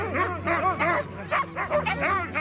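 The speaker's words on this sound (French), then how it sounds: "les chiens comprennent immédiatement et s'agitent." A close chorus of excited sled dogs yipping, barking and whining all at once, with high whimpers cutting through.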